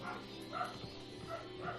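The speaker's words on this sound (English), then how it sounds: "Dogs are barking in the other room" Dogs bark in another room in Danganronpa 2, faint and muffled. Several soft, evenly spaced barks sit low under a steady background hum.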